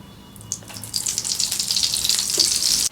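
Oil heating in a pan before pork belly goes in, giving a soft, steady hiss and sizzle that grows slightly louder, with faint clinks nearby and no talk.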